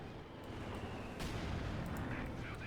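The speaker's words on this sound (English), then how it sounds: "Artillery called in there to further disrupt here Giap's position and the north side of the road." Artillery fire in the strategy game Company of Heroes 2, a short burst of heavy booming shell impacts over a dense rumbling battlefield background, alone without speech.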